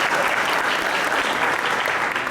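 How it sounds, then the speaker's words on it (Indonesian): Dense, steady applause from an audience at a motivational talk, loud and close, filling the whole moment with continuous clapping and no speech over it. "Tepuk tangan sekali lagi untuk teman-teman."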